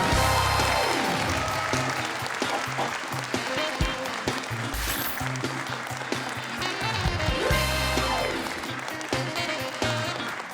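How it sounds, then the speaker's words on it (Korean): Audience applause welcoming a political science scholar onto the stage at a Busan World Expo lecture event, sustained and steady throughout, layered with loud music. "박수로 맞이해 주시기 바랍니다."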